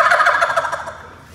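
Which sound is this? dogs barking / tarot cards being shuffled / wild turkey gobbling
wild turkey gobbling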